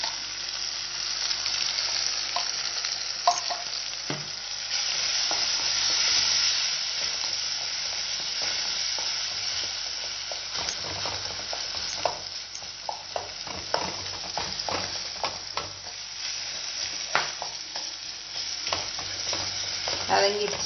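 Masala with turmeric and ground coconut paste sautéing in a pan, a steady close sizzle with scattered stirring scrapes and clicks throughout, no voices.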